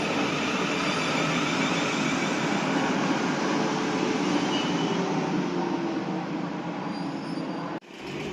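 A South Western Railway train from London Waterloo at Putney station, a loud steady roar of rolling wheels and motors passing close, with faint wheel squeal and a sudden cut near the end.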